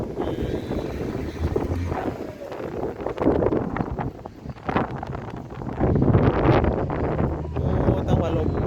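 Strong morning wind roars steadily across an outdoor microphone in loud, continuous gusts, with voices talking underneath.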